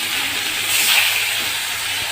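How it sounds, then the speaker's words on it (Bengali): Two middle-cut pieces of catla fish, from a fish of about 500 g, fry in a little mustard oil, giving a steady, close, even sizzling hiss. "মাঝের অংশ, সেই দুটো অংশ ভাজা হচ্ছে সর্ষের তেলে।"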